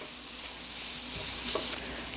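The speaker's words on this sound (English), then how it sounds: "how much do I love the smell of pork sausage frying" Pork sausage sizzles and fries in a large skillet, giving a steady, close crackling hiss with small pops throughout and no voices.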